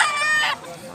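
A gamecock at a Cebu fowl market gives a short, loud crow-like call that cuts off after half a second, leaving a quieter background murmur.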